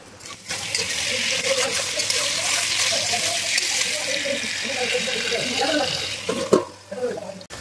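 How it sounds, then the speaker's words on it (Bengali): Brinjal with chillies frying in oil, a loud, steady hiss and sputter close by, easing toward the end with a couple of sharper knocks. "এখন বেগুনটা দিয়ে কিন্তু ভালোভাবে বেগুনটাকে লাল লাল করে ভেজে নেব"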